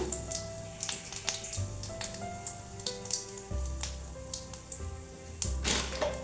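Whole cumin seeds and two broken dried red chillies sizzle and crackle in hot oil in a pan, giving soft, irregular pops and spits over a low steady fizz, with no talk.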